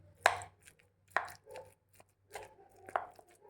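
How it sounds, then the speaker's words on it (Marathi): Gulab jamun being chopped and mashed into small pieces in a home kitchen, a few sharp knife strikes spaced about a second apart with softer mashing between, close and clear. "तर आता ते थोडेसे मॅश करूया किंवा बारीक तुकडे केले तरी चालतील"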